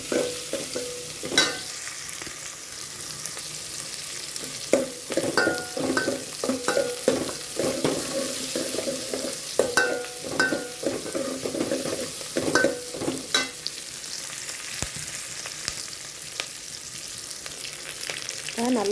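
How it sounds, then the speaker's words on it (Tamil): Onions sautéing for a Tamil-style tomato curry, a steady close sizzle broken by repeated scraping stirs of a spoon through the pan over about nineteen seconds, with no talking. "வெங்காயம் நல்லா வதங்கட்டும்."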